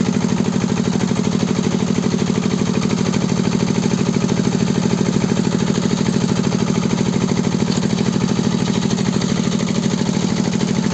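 A Kentavr 160V walk-behind motor-tractor pulling a plough uphill in third gear, its single-cylinder engine chugging loud and close in a rapid, steady, even beat that holds for the whole stretch.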